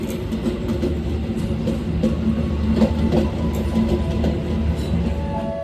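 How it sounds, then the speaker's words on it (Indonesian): Passenger train with a locomotive rolling past, a continuous heavy rumble with steady wheel clatter throughout, loud and close. "Ada lokomotif, kayaknya lokomotif dinasnya kereta api Progo ya ini."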